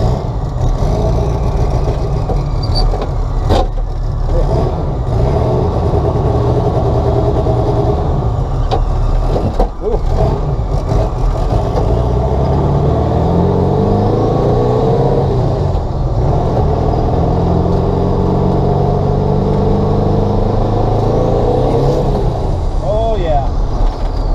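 A turbocharged Volkswagen Bug engine, fitted with a gas pedal, revs loudly and close, its pitch rising and falling through repeated throttle blips over a constant rumble. A voice talks intermittently over the engine.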